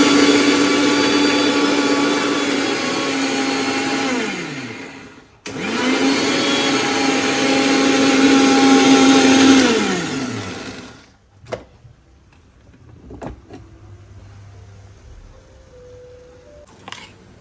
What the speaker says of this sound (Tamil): ஸோ இதை நம்ம கிரைண்ட் பண்ணி எடுத்துக்கலாமா? ஸோ இப்போ மிக்சியில் ஆட் பண்ணியாச்சு.